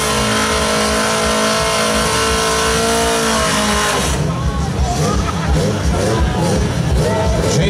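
A turbocharged drag racing car launches and roars down a Brazilian drag strip at a racing event, its engine revving loud and continuous, then shifting to a rougher roar as it speeds away.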